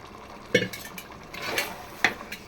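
A utensil stirs mutton biryani masala in a metal pot, producing several scraping clinks and knocks at an uneven rhythm, close and moderately loud with a faint sizzle underneath.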